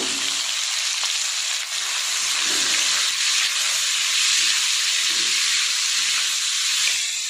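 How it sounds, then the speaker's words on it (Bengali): Shrimp, chicken and egg fry together in a pan for chowmein, giving a loud, dense, unbroken sizzle and hiss close by, with a few soft stirring knocks and no speech. "লাল লাল করে ভেজে নেবো এটা"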